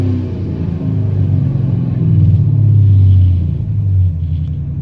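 A 2017 Chevrolet Camaro SS V8 with an MSD intake manifold idles with a deep, steady rumble that swells slightly in the middle, close and loud, with no talking.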